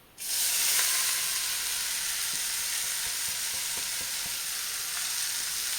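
Drumstick flowers drop into spluttering mustard seeds in a hot pan, setting off a loud, steady sizzle and crackle right after a quiet start, with faint stirring taps and no talking.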